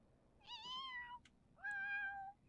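Two distinct cat meows from a cat in The Sims 4, the first rising and wavering, the second steadier and longer, separated by a short pause, clear and close with no talk.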